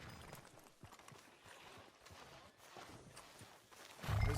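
A horse's hooves walking in Red Dead Redemption 2, a steady series of soft clip-clop footfalls on a street, fairly faint, ending in a louder rustling thump.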